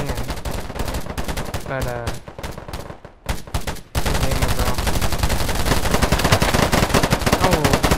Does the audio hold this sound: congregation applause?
no